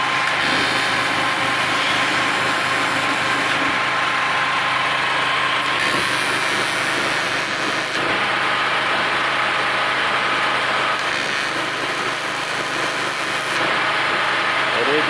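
A GGA 3900 generator powering a TIG aluminum welder runs at a steady drone for about fifteen seconds, loud and constant with slight shifts in pitch, while someone talks over it.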